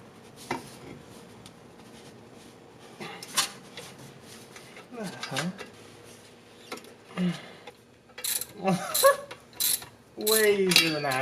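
Ratchet and metal clicks from a wrench unbolting the differential and drive shaft on a used AMG car, heard in scattered bursts that grow busier and louder toward the end, close by, with no voice.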